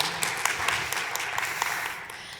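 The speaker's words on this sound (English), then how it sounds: "Go ahead and give her a clap." An audience at a law firm marketing talk gives a short round of applause, scattered claps at moderate distance over a soft room hum.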